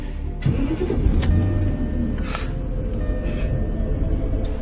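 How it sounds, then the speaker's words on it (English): A car engine turns over and catches, its rumble rising and settling into a steady idle, close and fairly loud, with a few sharp clicks and knocks around it. "please start the goddamn car"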